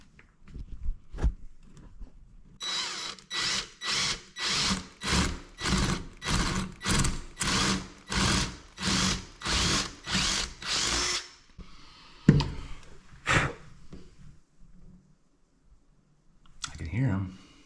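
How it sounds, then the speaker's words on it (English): A power drill whirs in a long series of short, regular bursts while drilling pilot holes in a 1912 mansion, then a few scattered clicks and thumps follow near the end. "So we're going to drill a couple pilot holes and see"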